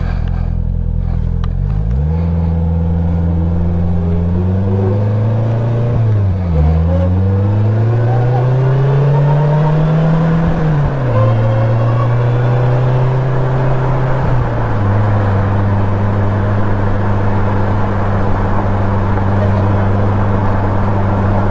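A Polaris Slingshot three-wheeler being driven in winter, its engine droning loud and steady as it revs up through gear changes with rising and falling pitch, close to the listener, with wind noise and a little talk now and then.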